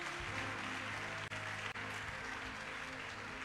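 A church congregation applauds and cheers for the Lord Jesus in a dense, steady wash of clapping that fills the space throughout, loud and continuous with no talk over it.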